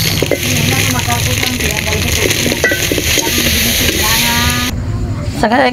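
Pork sausages fry in a pan crowded with plenty of cooking oil, giving a loud, steady crackling sizzle. Faint background voices sit under it, and the high spit drops away briefly near the end.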